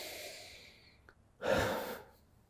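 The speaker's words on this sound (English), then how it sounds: "Let's take a breath together." A single slow, deep breath taken close up, a soft airy inhale swelling after a moment of near silence, then fading out.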